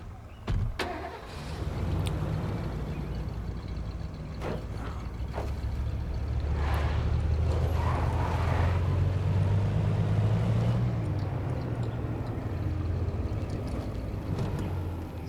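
A car in State of Decay: a few clunks and mechanical clicks, then an engine rumbling and building as the vehicle drives off, loud and steady to the end.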